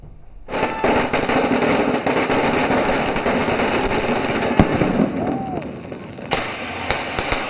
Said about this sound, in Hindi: दिवाली पर दिल्ली में खूब पटाखे चले।